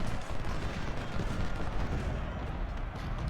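Massed Civil War musket and artillery fire from the Ultimate General: Civil War game at Malvern Hill crackles and booms continuously, dense overlapping volleys with low rumbling blasts and no talking.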